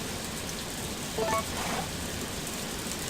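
Steady rain hisses continuously in the farming video game Harvest Moon: A Wonderful Life, an even wash of sound with a faint brief chiming tone partway through, no voices.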